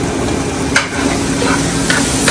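Mushrooms and plant-based sausage for a vegetarian jambalaya sautéing in a pan, a loud, close, continuous sizzle with a couple of brief stirring scrapes and no voices.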